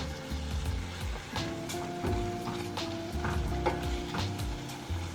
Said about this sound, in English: Continue to stir with the spatula.